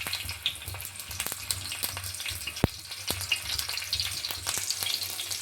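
Green chillies fry in oil on a flat griddle pan, a soft continuous sizzle broken by scattered pops and crackles, close and fairly quiet.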